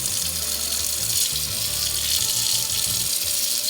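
Hot tap water runs steadily over the bristles of a wave brush, a close continuous splashing rush with shifting gurgles beneath.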